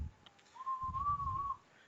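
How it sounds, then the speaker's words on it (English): An ocarina plays a single sustained, slightly wavering tone of about a second, close by and fairly quiet, with soft low rumbling beneath it and no talking. "my son's actually sitting here next to me playing the ocarina"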